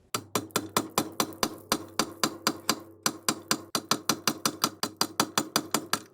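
Hammer blows drive a chisel through the outer ring of a Mercruiser outdrive carrier during a lower unit rebuild, a steady series of about thirty sharp metallic strikes, close and loud, with no talking.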